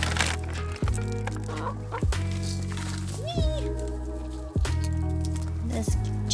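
Backyard chickens get excited over kitchen food scraps, clucking and squawking close by in a busy stretch of sound, while a person talks over them.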